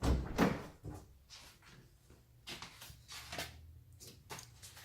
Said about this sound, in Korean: 이제 문을 열고 들어가 보겠습니다.